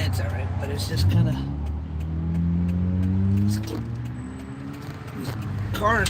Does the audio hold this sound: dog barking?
no